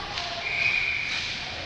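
A referee's whistle blows for offside during a college ice hockey game between Tennessee and App State, sounding as a single sustained shrill blast of about a second amid arena crowd noise.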